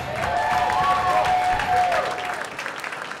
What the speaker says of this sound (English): we have one more round of applause for Lane London